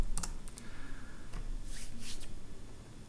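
Keys clatter on a computer keyboard in short quick bursts, close and crisp, with brief pauses between the taps.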